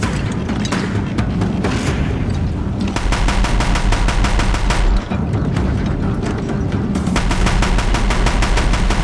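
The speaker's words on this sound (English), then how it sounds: "Deathbringers keep firing, this bridge will go!" Deathbringer war machines in the video game Horizon Zero Dawn fire their guns nonstop, a loud, dense stream of rapid automatic bursts with heavy booming impacts, broken by one brief pause midway.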